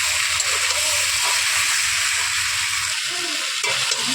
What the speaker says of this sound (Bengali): এভাবে নেড়ে চেড়ে 5-10 মিনিট ভালোভাবে কষিয়ে নেব।